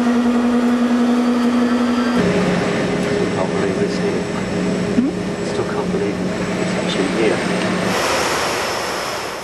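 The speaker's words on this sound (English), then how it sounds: "the engines fired up for the first time" Thrust SSC jet car engines firing up: a broad, steady roar that holds throughout, with a narrow whine that drops away early, and speech over it.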